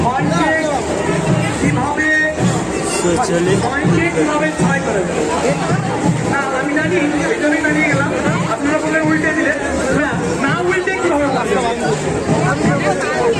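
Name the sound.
crowd hubbub at a Saraswati Puja gathering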